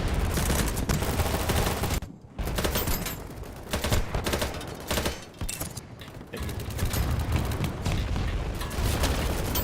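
Gunfire rips through a shooter video game as a sniper picks off a player. Dense, loud bursts of rapid shots and mechanical clatter fill the stretch, broken by two brief pauses, with no talking.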